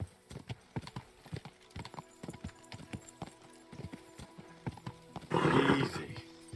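A horse's hooves clip-clop at a steady walking pace in Kingdom Come Deliverance 2, then a loud, close whinny rises near the end.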